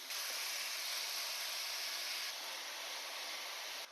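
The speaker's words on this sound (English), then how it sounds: "I have my pan with butter, and now I will add my apples to it. And those need to sear maybe for 4 minutes," Apples searing in a pan of melted butter, cooking until soft as a crepe filling, give off a steady, close, broadband sizzling hiss that holds evenly throughout with no talking.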